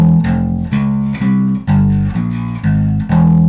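A distorted metal bass guitar plays a riff in a harmonic minor mode, loud and close, with heavy repeated low notes in short chugging phrases and brief gaps between them.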